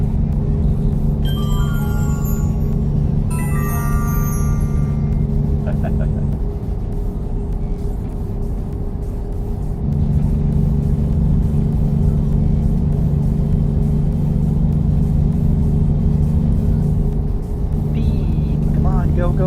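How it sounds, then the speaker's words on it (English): A heavy truck in a driving simulator game roars under full throttle, a loud steady low rumble that shifts pitch partway through, while a person talks over it. "And it's a heavy truck. I'm flooring."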